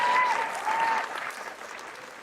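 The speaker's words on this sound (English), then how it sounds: "Can we give them a round of applause?" A commencement audience applauds the graduates, dense clapping that starts full and gradually thins and fades toward the end.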